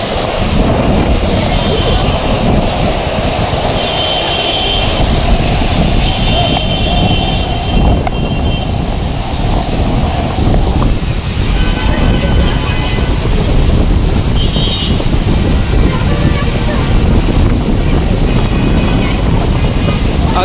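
A gusty wind and rain storm with hail in the capital city, roaring as a steady, loud, broadband rush of wind buffeting the microphone, with rain noise underneath for the whole stretch.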